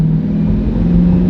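A sports car with an AWE track straight-pipe exhaust drones loudly up close, a deep steady engine rumble held for just over a second with a rising tonal hum inside it.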